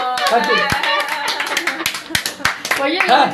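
Audience applause from a Tamil TV show erupts in scattered, uneven bursts, steady claps mixed with sharper slaps, heard under continuous talking throughout.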